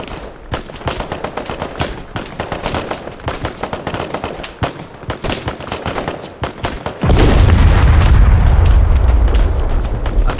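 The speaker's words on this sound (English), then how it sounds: "I think something blew up." Gunfire and explosions fill a Call to Arms battle, rapid bursts of shots crackling in dense rhythm before a heavy boom erupts and rumbles on, loud and close.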